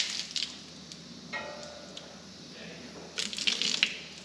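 Water spraying and splashing over a ceramic-coated John Deere 8100 tractor being washed, with bursts of hissing spray at the start and end and quieter dripping between, close and moderately loud.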